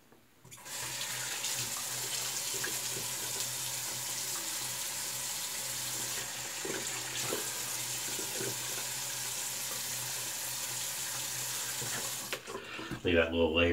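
Water runs steadily from a bathroom tap into a sink to wet the face before shaving. The stream is continuous and close, and a brief splash and clatter come near the end.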